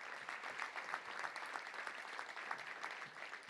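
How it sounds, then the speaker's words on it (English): Faint, distant round of applause from a Little Rock Touchdown Club luncheon crowd honoring high school award winners, a steady patter of many hands clapping for a few seconds. "Let's give them a round of applause right now."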